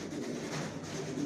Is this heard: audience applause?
no